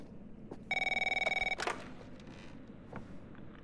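A telephone rings in the Dark Pictures horror game The Devil in Me, one loud electronic ringing burst lasting under a second, followed by a few faint clicks and soft background sounds.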